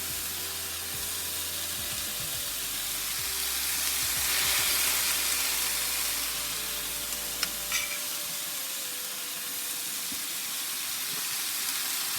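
Noodles frying in a pan with tomato for a budget dinner, a steady broad sizzle and hiss rising when they hit the oil, close and continuous with faint stirring, no talking.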